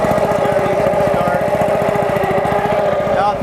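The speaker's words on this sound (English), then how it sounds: "So I'm going to start the motor" Small gas engine on a machine with an agitator runs steadily with a rapid, even chugging pulse, loud and close throughout, the choke on after starting.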